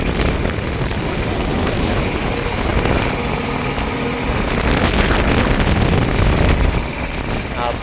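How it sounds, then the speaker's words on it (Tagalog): Loud, continuous roar of strong wind buffeting the microphone on a moving truck, with a rumbling engine underneath, surging slightly louder toward the end. "Lakas yung hangin."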